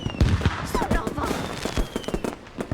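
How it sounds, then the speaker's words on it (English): Fireworks in the game Lake during a season's greetings celebration, a rapid scatter of pops, bangs and crackles bursting unevenly at middling distance, with a voice talking over them. "We don't even get to see the fireworks? Hello? We're just hearing them?"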